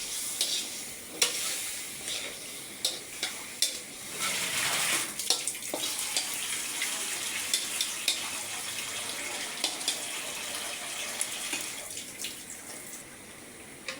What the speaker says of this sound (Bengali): এখন পুঁইশাকের ডাঁটা এবং আলুগুলো মশলার মধ্যে কষিয়ে নেব।